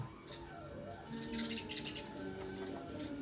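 House sparrows chirp in a quick cluster of high, bright tweets midway, over a quiet background with faint low sounds.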